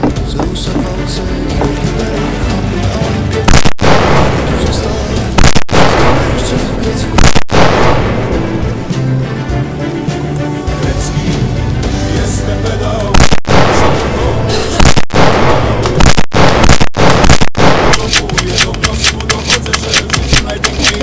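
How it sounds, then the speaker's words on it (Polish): Explosions in a video game, loud booming blasts and crackling bursts repeating through the scene, with a faster rattle of shots near the end and talk over the top. "Wszystko nagle wybucha"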